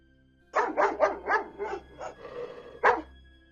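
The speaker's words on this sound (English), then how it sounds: "I heard my 2 dogs barking outside." A few sharp dog barks in a quick burst, fairly faint and somewhat distant, followed by a single louder bark after a short pause.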